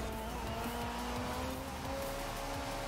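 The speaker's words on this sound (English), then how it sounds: "Oh, Carrera does the drift. Carrera does the funny drift." A Porsche Carrera drifting in a racing video game, its engine droning steadily with a thin, sustained tyre squeal running underneath at an even, moderate level.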